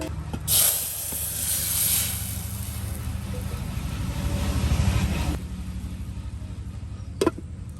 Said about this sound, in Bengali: মশলাটাকে কষানো হবে।